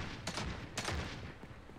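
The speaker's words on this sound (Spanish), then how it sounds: "Escucho disparos." Two quick bursts of distant gunfire crackle in a battle royale game, a short volley each, followed by fainter scattered shots.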